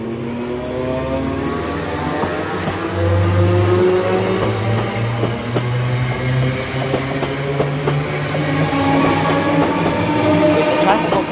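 Train departing Bethnal Green station in London, a steady loud rumble of traction motors and wheels with rising whine tones and rail clicks, continuous and close throughout.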